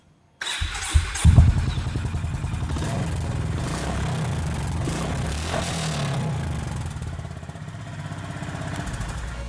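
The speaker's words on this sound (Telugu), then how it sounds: "వెహికల్ ఎగ్జాస్ట్ నోట్ అయితే ఒకసారి ఎక్స్పీరియన్స్ చేద్దాం." A Honda CB350RS motorcycle starts up and settles into a steady, throbbing exhaust note close by, holding an even idle for several seconds with no voices.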